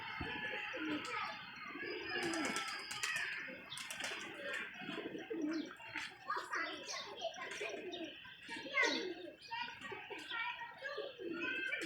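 A flock of pigeons coos steadily and close by, mixed with other bird calls, while people talk in the background throughout.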